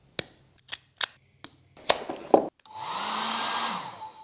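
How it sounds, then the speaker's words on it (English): Several sharp mechanical clacks and snaps from a homemade automatic sock launcher, followed by a steady whirring blast of hair dryers switching on and running for about two seconds before stopping. "if I press the A button, we should hear the hair dryers go off"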